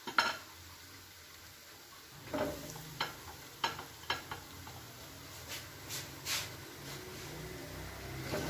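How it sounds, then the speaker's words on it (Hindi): Potato cheese balls fry in hot oil with a steady background sizzle, broken by scattered light clinks and stirring taps from a utensil in the pan, heard up close with no voices. "इसी तरह से हम बाकी के बॉल्स को भी फ्राई कर लेंगे।"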